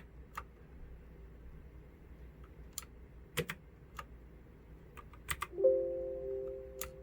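Keys clack on a cheap RGB mechanical keyboard, a few sparse, sharp presses spread out with pauses between them, followed by a brief electronic tone at the end.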